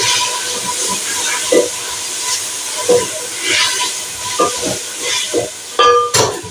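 Tomatoes frying in a pan for karela qeema, a steady sizzle and hiss with scattered soft stirring clicks and scrapes, fairly close, with no talk.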